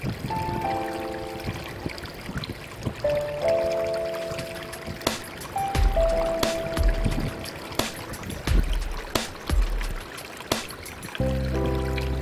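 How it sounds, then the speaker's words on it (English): A stream of flowing water pours and trickles steadily nearby, with intermittent tonal whistles and low thuds mixed over the continuous rush. "When you see flowing water, I like to play around with it."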